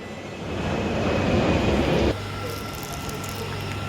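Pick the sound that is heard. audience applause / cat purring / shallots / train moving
train moving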